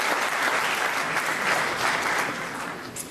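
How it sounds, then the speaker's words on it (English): An audience at a tech product launch event gives loud, dense applause that holds steady throughout the short stretch, with no speech on top. "Clap for me because I need the applause."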